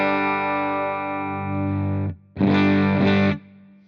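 Distorted electric guitar played through a Line 6 HX Stomp with the bass turned down: a long, bright, sustained chord rings for about two seconds, then after a short gap a second chord is struck and held, loud and alone.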